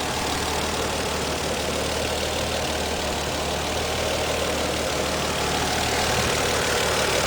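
1994 Toyota Supra fitted with a single turbo, idling steadily and quietly, a smooth, even engine hum close by with no talking.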